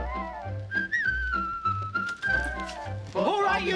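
A man whistles a wavering tune while working, the melody carrying on over bursts of other voices and background noise from a wartime comedy scene.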